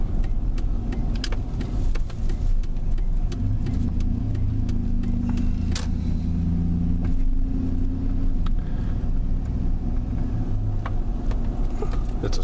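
GM 4.8L V8 engine under hard acceleration, a loud, steady low roar heard from inside the vehicle, with its pitch climbing partway through amid faint rattles.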